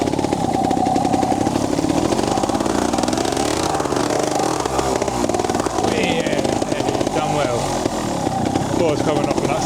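Revving engine of an old trials motorcycle being ridden through mud and a stream, a steady loud mid-pitched drone that rises and falls in pitch throughout, close and continuous with no pauses.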